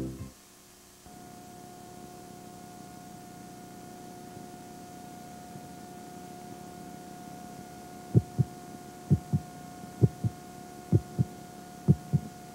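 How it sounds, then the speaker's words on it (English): A heartbeat thumps steadily over a constant low hum, arriving only after several seconds and then repeating as soft double beats in an even rhythm about once a second. "Listen. Your heart beating continuously."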